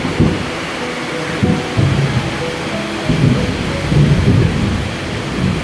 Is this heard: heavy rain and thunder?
yes